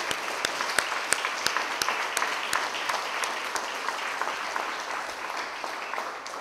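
Steady applause fills a conference hall for peace builders, many hands clapping at once with a few sharp, distinct claps standing out nearby, fading slightly toward the end.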